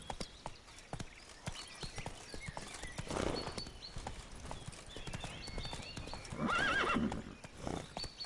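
A horse in the video game The Witcher 3 gallops with rhythmic clip-clopping hoofbeats, joined by a loud, shrill whinny near the end.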